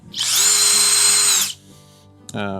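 A cordless drill fitted with a DeWALT FLEXTORQ bit drives a screw, whirring loudly at high speed for about a second and a half, then winds down and stops with a short final click.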